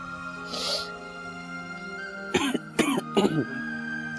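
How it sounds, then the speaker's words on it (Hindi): A few short, harsh coughs in quick succession close by, following a brief throat-clearing sound, over a faint steady hum. "खांसी हो रही ना तुम्हें?"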